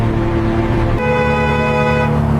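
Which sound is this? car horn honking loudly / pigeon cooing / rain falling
car horn honking loudly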